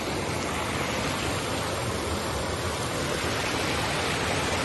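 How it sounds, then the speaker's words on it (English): Water rushes down a stream with fountains in Spain, a steady, loud, close wash of noise that holds unchanged and alone from start to finish. "She wasn't that keen on the water rushing down."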